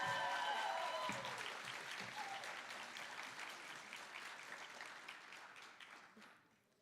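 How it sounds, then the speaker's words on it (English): Audience at a school Black History Month assembly gives a round of applause, dense clapping that starts strong, gradually thins and fades out near the end. "Can we give one more round of applause for our dancers and our poems?"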